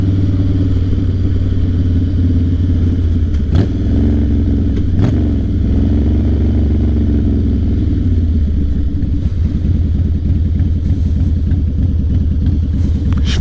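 A Harley-Davidson Fat Boy motorcycle engine rumbles loud and close on a test ride, with a deep steady idle, a couple of sharp clunks, and shifting revs after the midpoint, with no talk over it.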